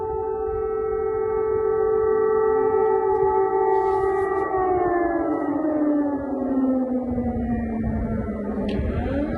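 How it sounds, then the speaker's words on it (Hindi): A loud air raid siren wails steadily during the Russia-Ukraine war, its tone slowly falling in pitch, sustained for the whole stretch with no voices. "पिछले 5 मिनट से ये एयर रेड सायरन बज रहा है।"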